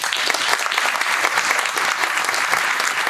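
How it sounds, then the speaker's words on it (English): Audience applause for General Hayden at an intelligence-agency panel event: sustained, dense clapping from a full room, steady and even in loudness, with no speech over it. "let's give a round of applause to General Hayden."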